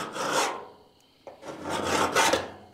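A scribe dragged along the edge of a panel to mark it while fitting a raised bed floor in a bagged mini truck: two long close rasping scrapes separated by a short pause, loud and alone.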